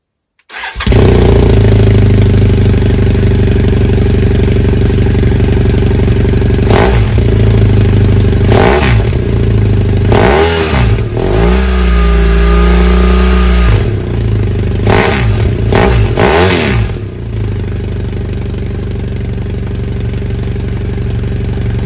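A BMW F650GS motorcycle fitted with an Akrapovic exhaust starts and idles loudly up close, its steady rumble broken by several sharp throttle blips and revs before settling back.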